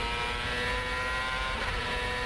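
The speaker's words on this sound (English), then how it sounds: "let's listen to the engine now" IndyCar race car engine during Indianapolis 500 practice, a loud sustained high-pitched engine whine holding near-constant revs through a corner exit, with no talking.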